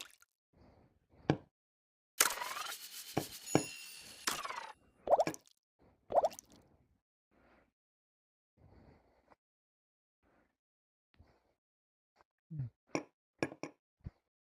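Liquid dispensed from a fluidizer machine into a cup in a VR space bartender game: a burst of dense dispensing noise with a falling tone, surrounded by scattered plops, drips and soft knocks, fairly quiet overall.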